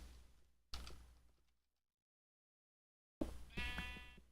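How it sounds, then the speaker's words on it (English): Sheep in Minecraft give two short, close bleats separated by a stretch of silence, the second one rising into a quavering, harmonic call. "stupid sheep walking around scared the crap out of me"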